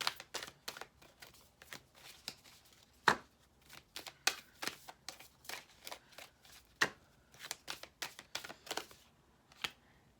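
Tarot cards being shuffled by hand, a run of crisp riffling snaps and soft slides in an irregular rhythm, close and fairly quiet, with no talking.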